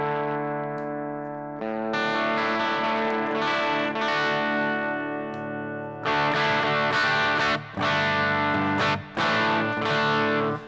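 An electric guitar played through a Quilter amp into a closed-back cabinet, distorted and loud, with sustained chords and a few sharp breaks between phrases, heard alone without talk.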